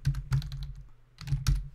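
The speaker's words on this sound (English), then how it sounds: "I'm typing this at 2 a.m." Computer keyboard keys tapped late at night in quick bursts, two clusters of clicky strokes separated by a short pause, close and fairly quiet with no voices.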